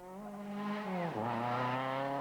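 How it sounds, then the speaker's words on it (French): A Renault Clio rally car in a 1998 Wallonie rally stage drops its engine note sharply on a gearchange or passing, then climbs again as it accelerates hard, loud and close. "Renault Clio"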